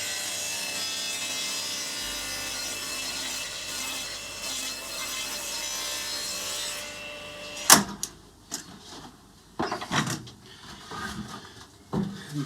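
A pallet wood board edge is run along a jointing jig, with a steady rasping cut for several seconds that stops abruptly, then a few sharp knocks and clatters of handling follow.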